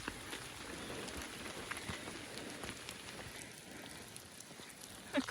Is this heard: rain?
yes